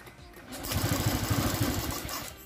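The electric starter on a Honda Scoopy fi scooter cranks in a fast, rhythmic churning for about two seconds without the engine catching, close and steady.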